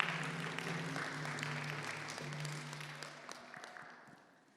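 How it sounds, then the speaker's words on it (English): An audience at an Orange Shirt Day gathering claps for a young designer, a fairly faint patter of applause over a low steady hum that thins out and fades toward the end. "Round of applause for Jackson."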